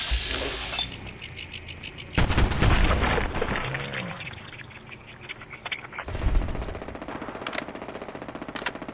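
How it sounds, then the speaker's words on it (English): Rifle gunfire in the video game Fallout, loud bursts of rapid automatic shots in two clusters with booming impacts and a short lull between them. "I'm almost out of this ammo. I need to pick a different rifle."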